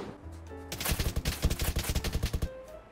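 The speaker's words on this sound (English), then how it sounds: "He's getting shot from another angle too." A rapid burst of automatic gunfire in the Roblox game Apocalypse Rising 2 erupts after a brief quiet stretch, with around a dozen sharp, closely spaced shots for under two seconds before stopping.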